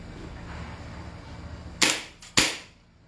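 An airsoft sniper rifle fires at a post outdoors, giving two sharp, loud cracks about half a second apart, each with a brief ringing tail, over a quiet background with no talking.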